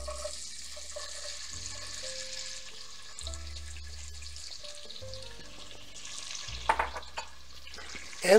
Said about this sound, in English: now that it's starting to sizzle, we're gonna add our red onions.